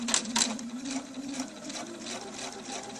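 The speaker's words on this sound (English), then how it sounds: "I'm just going to sew along there. Do a 1/4 inch seam." A sewing machine runs steadily, stitching a quarter-inch seam along a fabric birthday pennant, with a close, continuous mechanical whir and rapid needle rhythm over three seconds.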